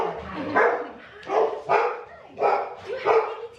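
Several dogs bark in a steady sequence of five or six loud, close barks spaced roughly half a second to a second apart, with no talk over them.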